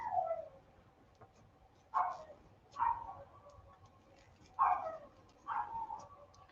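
Dogs whimper and groan in a series of five short, falling cries spaced irregularly over a quiet, low background rumble.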